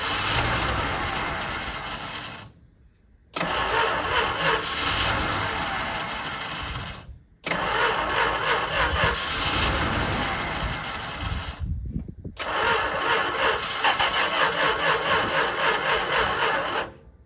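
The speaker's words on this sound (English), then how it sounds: "even when I try to give it fuel, it don't want to run now" A 1st Gen Cummins diesel in a Dodge truck running on poor-quality fuel cranks in three long, loud bursts, chugging and sputtering without catching, with short silent gaps between tries.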